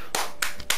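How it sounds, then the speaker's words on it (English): Three quick, crisp hand claps close by, evenly spaced across under a second, with no voices. "Can I get a round of applause?"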